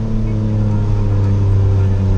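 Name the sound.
Hyundai HB20 three-cylinder engine exhaust revving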